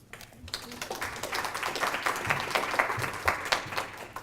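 An audience at a talk on Latino generations in Nebraska applauds to welcome two speakers, with steady dense clapping that builds and holds for several seconds.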